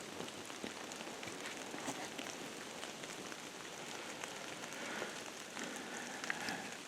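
Rain pattering on leaves and ground in quiet northern woods during deer season, a soft, even hiss of drops with scattered sharper taps nearby, steady throughout and fairly faint.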